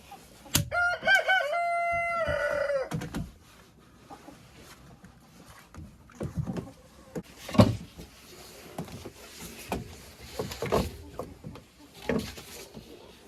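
A rooster crows loudly up close, followed by scattered clucking and rustling from chickens, with faint bumps and knocks in the background.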